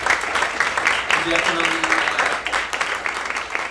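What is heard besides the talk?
audience applause for candidates at a forum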